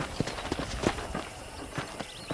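A horse's hooves clip-clopping at a walk on a ranch in the video game Red Dead Redemption, a handful of close, moderately soft hoof knocks in an uneven rhythm over faint background ambience.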